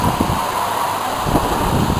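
Strong wind from a storm gust front buffets the microphone in a steady, loud roaring rush for two seconds, with no voices.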